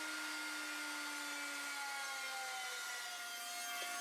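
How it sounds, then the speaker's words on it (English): A power planer smooths the second face of a wooden board for a workbench rebuild, a steady continuous whir with a faint shifting whine, close and loud from start to finish. "Next, I used my planer to clean up the second face."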